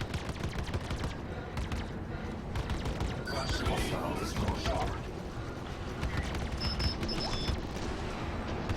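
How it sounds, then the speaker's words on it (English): Rapid bursts of enemy ship gunfire crackle through a Star Citizen space dogfight, layered over dense engine roar and steady combat noise, loud and continuous, with a few bright tonal beeps in between. "See that other guy shooting at me"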